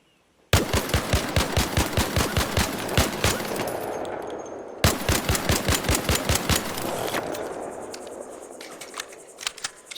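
Two long bursts of automatic weapon fire in the shooting range of the video game ARC Raiders, evenly spaced rapid shots, loud and close, separated by a brief pause, ending with a few scattered clicks.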